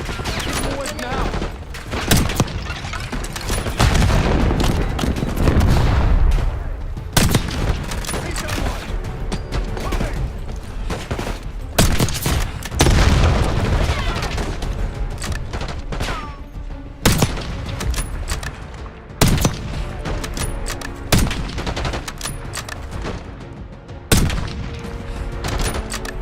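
Heavy gunfire and explosions in a Call of Duty Black Ops 6 cutscene, with sharp bursts and repeated loud cracks over a dense battle rumble, voices calling out among the shots.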